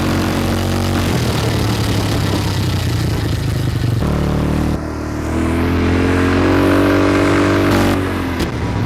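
A 2024 Dazzle 200 automatic ATV engine running at high speed, a steady loud drone with shifting pitch, a short dip midway, then revving up again close by.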